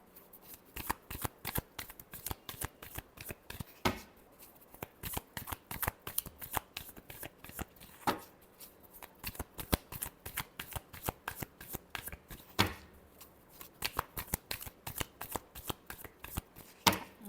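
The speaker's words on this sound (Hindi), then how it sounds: "last shuffle" Tarot cards being shuffled by hand, a long run of quick crisp riffling bursts and flutters in steady repeated cycles, close and clear with no talking.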